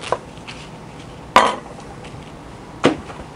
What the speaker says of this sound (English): Just go ahead and cut your onion.